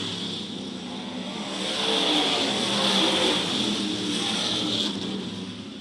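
Topless Mod race cars roar past at the finish of a heat at Charleston Speedway, a loud sustained engine drone that swells in the middle and eases slightly toward the end, with no talk.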